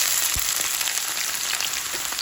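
Onions frying in hot oil for a shrimp dish, a steady broadband sizzle throughout with faint soft pops, fairly quiet and close, with no voices.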